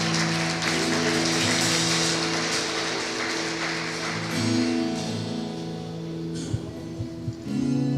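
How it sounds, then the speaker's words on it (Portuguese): Church congregation applauds the Lord in a sustained wash of clapping that thins out toward the end, with a held musical tone beneath and a few louder taps. "Você pode aplaudir ao Senhor."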